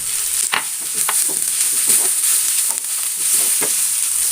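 A spatula stirs a sizzling tuna fish masala with chopped curry leaves and coriander in a hot pan, giving a continuous loud fry hiss broken by repeated scraping strokes, with no talking.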